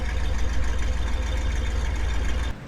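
A converted van's engine idles with a throaty, deep rumble, loud and steady up close, then drops off sharply near the end.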